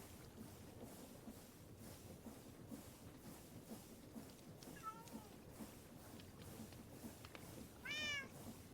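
A cat meows a couple of times, short rising calls standing out against a low steady background hum and faint clatter, with no talk over them.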